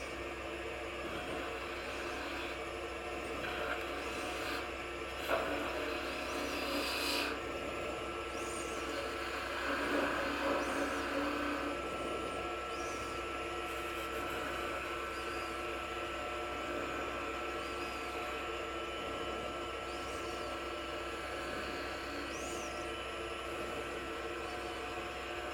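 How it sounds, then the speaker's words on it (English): A wooden goblet turned from a branch spins on a lathe while a spindle gouge works the bottom, giving a steady whirring motor drone with faint cutting hiss and no talk. "I'm going to switch over to a spindle gouge, see if I can't get in here just a little bit closer to do this final work right here on the bottom"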